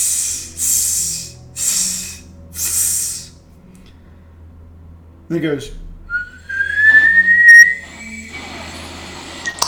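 A tabletop storytelling session where a sharp rising whistle starts up, joined by a burst of hissing steam near the end, following a few loud breathy spray-like bursts early on, with people talking.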